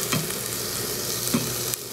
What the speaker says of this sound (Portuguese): nessa panela aqui, tô fazendo umas tirinhas de carne de boi.